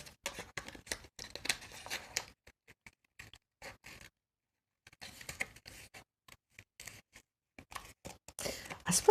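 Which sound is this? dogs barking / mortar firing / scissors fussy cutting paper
scissors fussy cutting paper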